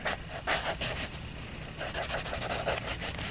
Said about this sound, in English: I like the sound that the pencil makes on the paper